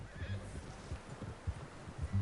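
A horse in the Western setting of Red Dead Redemption 2 gives short snorting whinnies with soft hoof clops between them, close by and at moderate volume, alone with no talk.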